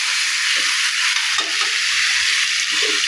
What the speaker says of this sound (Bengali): ভালোভাবে মাংসটা কষিয়ে নেব